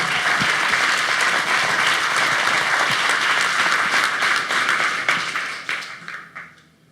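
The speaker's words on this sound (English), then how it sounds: "do a round of applause for our sponsors" Audience at the 2016 Hackaday Prize awards ceremony applauds the sponsors, sustained dense clapping that holds steady for about five seconds and then thins out and fades away.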